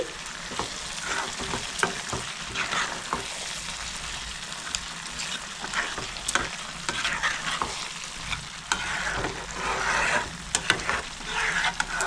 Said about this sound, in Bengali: গরম মশলা দিয়ে ভালো করে মিক্স করে নিচ্ছি।